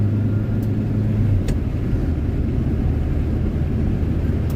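A 1978 Honda Civic engine drones steadily while driving and accelerating, a loud, close cabin rumble with an even low hum and slight rise in pitch.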